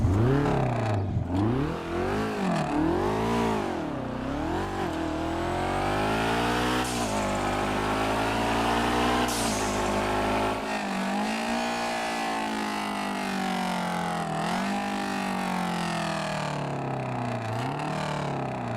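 A Karin four-cylinder sports car in a GTA 5 mod revs repeatedly, its engine pitch sweeping up and down in rising and falling waves, then settling into a steadier sustained drone, loud and close throughout with no talking.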